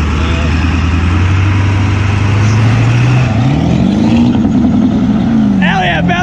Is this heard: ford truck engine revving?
yes